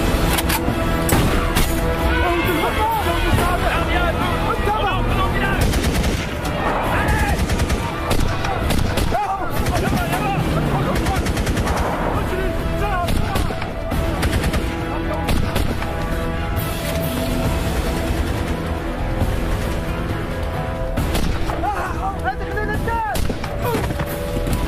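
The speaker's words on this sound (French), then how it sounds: "Vas-y, tire." Sustained heavy gunfire in a desert hostage-rescue scene in Mali: rapid bursts and dense volleys of shots crackle continuously and loudly, layered with booming reports, with a few shouted voices buried in the din.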